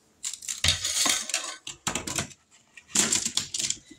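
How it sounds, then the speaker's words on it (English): Potatoes tumble out onto a metal pan in several clattering bursts, hard knocks and rattles spread over a few seconds, close and fairly crisp. "now we're going to dump them out on this pan"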